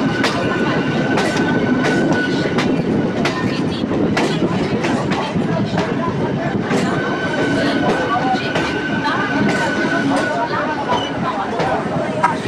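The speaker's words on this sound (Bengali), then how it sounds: "ডাউনে হাওড়া লোকাল হাওড়া প্রবেশ করছে বন্ধুরা।" A Howrah EMU local train rolls into Howrah station on the down line, steady wheel clatter and rumble with rhythmic clicks over rail joints, loud and continuous with a faint squeal tone throughout.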